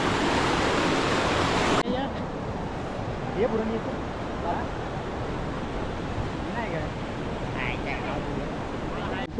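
Water flowing down at Devkund waterfall on a forest trek, a constant roaring rush, loud and steady throughout, with a voice speaking briefly over it.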